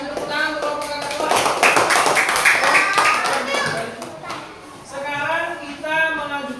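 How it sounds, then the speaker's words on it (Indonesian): Classroom applause for a group of students: a burst of scattered clapping from children that swells and fades, with kids' voices and chatter mixed in throughout. "Kasih tepuk tangan untuk kelompok kakak tua."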